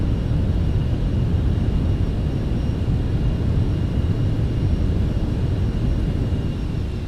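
MD-11 in X-Plane 11 rolling out after landing with thrust reversers deployed, a loud continuous low engine roar that holds steady throughout with no talk.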